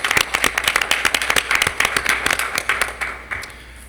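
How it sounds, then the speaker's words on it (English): A school board meeting audience applauds National Merit Scholar graduates, a brisk spatter of many hands clapping at moderate volume, thinning and tapering off toward the end. "Give them a round of applause."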